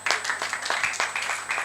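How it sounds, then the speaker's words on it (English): An audience at a CIPS Nigeria 2025 professional gathering claps together in a steady patter of hand claps, moderately close and filling the short moment with no talking. "Oh, clap for yourselves."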